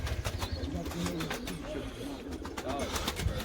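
Pigeons coo softly in repeated low calls against a faint background.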